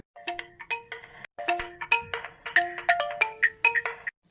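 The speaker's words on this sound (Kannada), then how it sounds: "ಇವೇನಪ್ಪ ಮನ್ಮತ್ ರಾಜ ಮತ್ ಫೋನ್ ಹಚ್ಚಾಕತ್ನಲ್ಲ." A mobile phone ringtone plays a bright, melodic run of electronic tones in quick rhythmic phrases for about four seconds. It sounds close and clear, with no talking.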